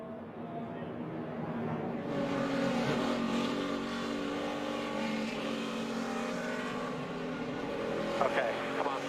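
NASCAR Cup race cars from 2009 roar on track as engines accelerate, a steady dense drone that swells and holds, heard from a distance beneath a voice talking over it.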